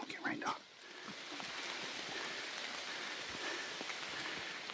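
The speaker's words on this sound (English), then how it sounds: "It's raining pretty good." Steady heavy rain patters on a canopy overhead in Tennessee's Savage Gulf, a constant hiss with a brief soft voice at the start.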